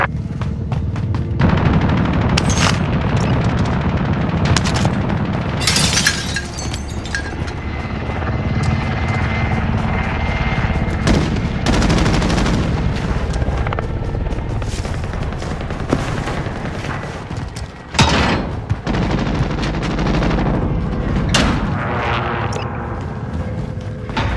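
Airstrike blasts and automatic gunfire in the Call of Duty Warzone game, with a helicopter-like roar throughout; loud, dense booms and bursts of shots over about twenty-four seconds with no talk.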